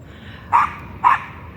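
A dog barks twice in quick succession at a squirrel that has jumped onto a fir tree outdoors, two short sharp barks, fairly close and clear against quiet surroundings.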